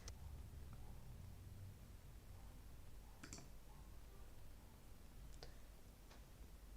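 A few sparse, faint mouse clicks sound against a quiet room hiss while test users are set up in a computer interface, with one double click in the middle.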